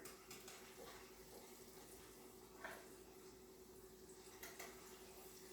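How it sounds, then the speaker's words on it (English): Falafel frying in grapeseed oil gives off a faint, continuous sizzling hiss with occasional soft pops, heard alone without talk. "All right, so we do have a sizzle going over here."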